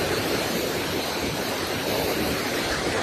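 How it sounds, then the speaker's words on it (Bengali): A mountain stream near Sela Pass in Tawang pours continuously with a dense, steady rushing roar, close and loud, with no pauses or voices. "এইরকম জলের ধারা বয়ে যাচ্ছে কন্টিনিউ"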